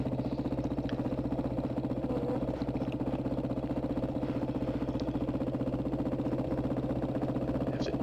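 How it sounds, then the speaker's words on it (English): An off-road motorcycle engine idles close by in the hilly Carnegie terrain, a steady pulsing low putter with rapid even firing beats and a few faint clicks, with no one speaking. "Fortunately, the motor is still running"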